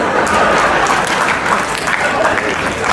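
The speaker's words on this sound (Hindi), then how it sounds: "तालियां कमजोर है आपकी।" Scattered, fairly thin applause comes from the audience at a Hindi comedy poetry gathering in Surat, a busy crowd texture with some murmuring mixed in.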